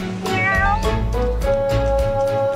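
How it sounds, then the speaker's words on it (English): A cat meowing in the video game Wylde Flowers, a loud drawn-out meow followed by a second long meow, close and clear with nothing else heard. "Hey there, kitty."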